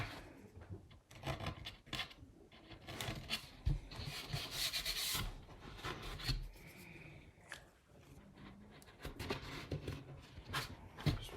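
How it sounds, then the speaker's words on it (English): An X-Acto knife scrapes and picks at the holes in a Launch Lab Bullet Bobby XXL model rocket part, giving close, irregular scratchy rasps and small clicks in short bursts with brief pauses between them. "Now I'm going to use my X-Acto knife to just kind of clean out the holes a little bit."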